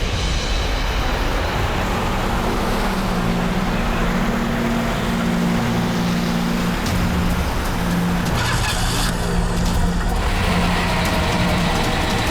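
A car engine with cloth stuffed into its silencer runs in a loud, continuous, rough drone that shifts in pitch partway through, close and unbroken for the whole stretch.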